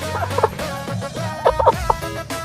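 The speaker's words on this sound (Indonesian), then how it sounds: "Kita ambil dulu ayamnya yang ini terkena penyakit ngorok" Chicken sick with ngorok respiratory disease and flu, giving short, rough, gurgling clucks and raspy breathing noises close up, in brief irregular bursts.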